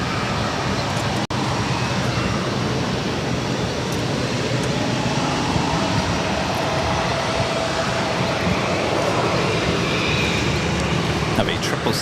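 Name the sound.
Boeing 777 on short final approach to Boston Logan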